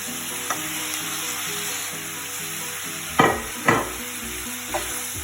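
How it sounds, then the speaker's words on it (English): Courgette and pepper sizzle steadily in a frying pan, with a few sharp scraping stirs of a utensil against the pan standing out above the continuous crackle, up close with no talking. "the courgette has cooked for about 2 minutes, so at this point I'm just going to add the pepper"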